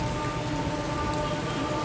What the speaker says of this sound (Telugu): చాలా బీభత్సమైన వర్షం వస్తుంది